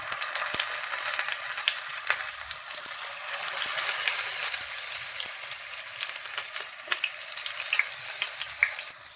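Tomatoes frying in hot oil in a kadai give a steady bright sizzle with scattered crackles and occasional faint clinks, moderately loud and even throughout, no voices.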